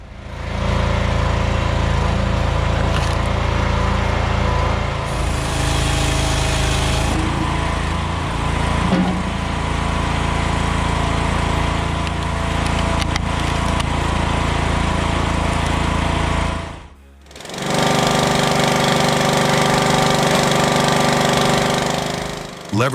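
A homemade firewood splitter driven by an 11.5 hp lawnmower engine drones loudly and steadily up close, with a brief dip near the end before the engine roars back.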